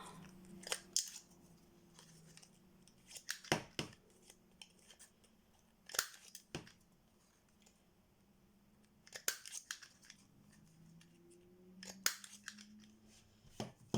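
Scissors snip the corners of a small paper label, giving sharp, quiet cuts in short clusters spaced a few seconds apart, close by and alone.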